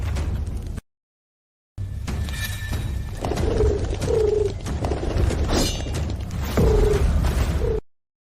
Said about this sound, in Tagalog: Kitang-kita na kumakanta pa ang kalapate.